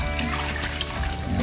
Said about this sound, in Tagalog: Dagdagan pa rin natin ng tubig.